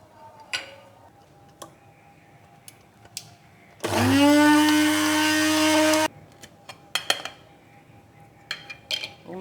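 Roasted biryani spices ground in an electric grinder: one loud, close whirring burst lasting about two seconds, framed by quiet clicks and light clatter of handling before and after.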